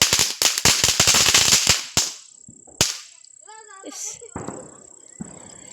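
Diwali firecrackers set off by hand, a rapid string of sharp, loud cracks followed by a few isolated bangs, with voices talking in between.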